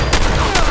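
Two sharp gunshots a fraction of a second apart in Fallout 4, loud and close over a low game hum.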